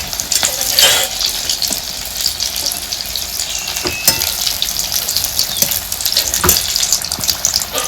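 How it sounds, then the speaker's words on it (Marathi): Capsicum bhaji frying in hot oil, a steady bright sizzle throughout with a few sharp crackles and pops, close and fairly loud, no voices. "आता दुसऱ्या अंगी सुद्धा आपल्याला भाजून घ्यायची चांगली."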